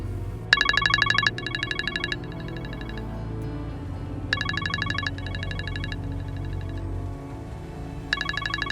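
A telephone ringtone sounds in three bursts of bright, repeated electronic trills, with short pauses between them, over a low hum of background music or room sound.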